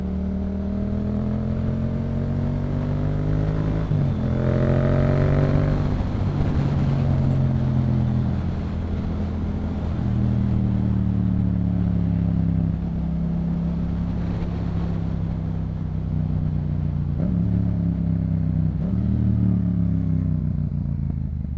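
Yamaha MT-07 motorcycle with a Yoshimura exhaust, its engine running steadily near the microphone, with harmonic tones rising and falling through a few revs and a deep, continuous throaty drone, no talking.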